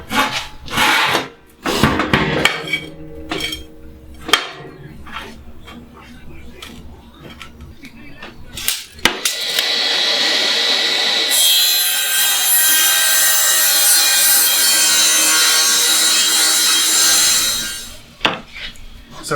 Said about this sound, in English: just gonna rip it to width and length on the table saw